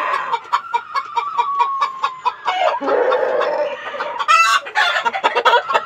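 Hens clucking busily close by, a rapid run of short clucks with rising squawks toward the end, no talking.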